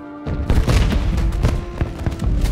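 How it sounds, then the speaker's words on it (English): Fireworks exploding in the Xbox 360 game Shrek Forever After, a loud series of booming bursts and crackling thumps following one another in rapid succession. "Fireworks."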